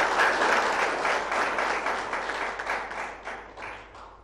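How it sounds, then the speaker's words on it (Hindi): Loud applause from an audience at a health and wellness gathering, dense rapid clapping that starts strong and gradually thins and fades toward the end. "बहुत जोरदार तालियों से उनका साथ"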